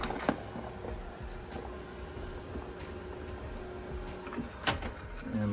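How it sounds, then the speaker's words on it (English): Uninet iColor 650 printer printing foil pouches in white underprint mode, a quiet mechanical hum with a faint whirring tone and intermittent clicks and thumps of moving parts. "we will walk over to our iColor 650"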